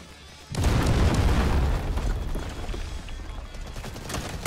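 A missile strike lands on an enemy spawn area in the video game Delta Force, giving a loud booming explosion that hits suddenly and then rumbles and crackles down into continued battle noise.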